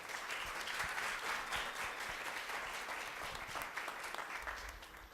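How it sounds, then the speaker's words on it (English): Applause from the audience at a Black History Month essay awards ceremony for the contest participants, a full, continuous round of clapping from many people that holds steady for several seconds before easing slightly. "Let's give everyone who participated a big round of applause."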